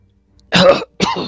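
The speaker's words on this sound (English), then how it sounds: "Oh, where's the cough button?" Two short, sharp coughs or throat clears from a person during a live stream of Field of Glory 2 multiplayer gameplay. The first is slightly longer, the second follows after a brief pause. Both are close and loud, with no talk.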